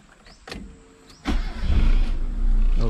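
A Proton Wira car engine starting: a few brief clicks, then a starter crank that catches into a loud, close, steady idle.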